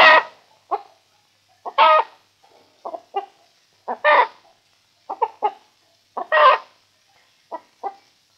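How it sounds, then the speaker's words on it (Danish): A hen in a henhouse cackles after laying an egg, giving repeated loud, clear bursts of squawks separated by short pauses. It is heard alone with no talk. "hun har lige gjort æg, hun kavler"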